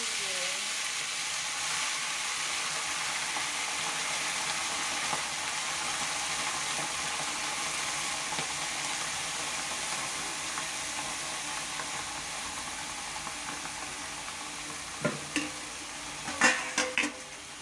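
Bathua greens and eggplant frying in hot oil seasoned with nigella seeds in a kadai, a steady broad sizzle running throughout, with a few louder clatters and stirring knocks near the end.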